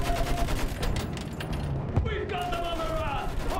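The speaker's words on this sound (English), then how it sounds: "Oh, we got a machine gun too." Rapid machine gun fire and other battle gunfire in the Battlefield 1 video game, dense and continuous under a player talking, with a sharp impact partway through and game music tones.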